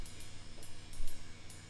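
Several washy cymbal strikes ring out at uneven intervals, each shimmering and decaying over a low background hum.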